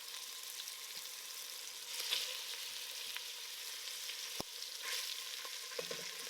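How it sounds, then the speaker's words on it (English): Cubes of pork searing in olive oil in a pot, a soft steady sizzle and crackle with occasional stirring clicks, close and fairly quiet. "I'm gonna start working my pork in batches because I don't want to overcrowd the pot and not get these nice and seared"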